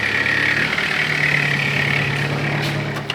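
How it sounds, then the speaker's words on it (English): A car engine idles with a steady low hum and a persistent metallic rattle from a worn belt tensioner, giving a diesel-like clatter, close and moderately loud. "It's making an awful rattling noise that makes my car sound like a diesel when I put it in gear."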